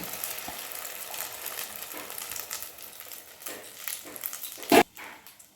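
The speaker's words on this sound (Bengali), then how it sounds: "তেলটা গরম হয়ে গিয়েছে এবার মিডিয়াম আঁচ আঁচে রেখে আমি ডিমের গোলাটা দিয়ে দেব" Beaten egg poured into half a spoon of hot oil in a pan over medium heat, a soft, steady crackling sizzle with a sharp louder crackle near the end.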